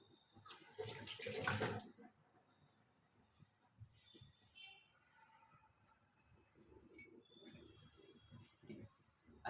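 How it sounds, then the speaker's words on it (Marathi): A spoon rinsed under a running kitchen tap gives a loud, close gush of water for about a second, then the clip falls to quieter clinks and low room noise. "धुवून घेतो एक वेळा."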